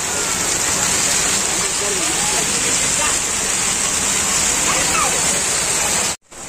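Water pouring steadily in a park fountain at night, a constant loud rushing splash like heavy rain, with faint voices underneath and a brief cut near the end.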